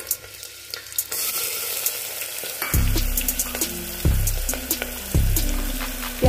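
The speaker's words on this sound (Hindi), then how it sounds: "गोल्डन कलर होने तक भूनेंगे।" Onions sizzle and crackle steadily in a hot pan, with a few clanks and scraping stirs; no voices.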